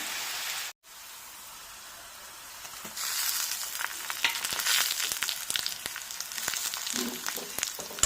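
Chopped garlic and green chillies sautéing in oil for a bitter gourd pickle, a quiet hiss that swells into a louder crackling sizzle with spatter pops and scraping stirs, close up.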